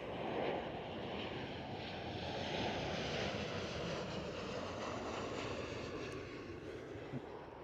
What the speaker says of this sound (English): Trying to spot an aircraft that's flying past the airport.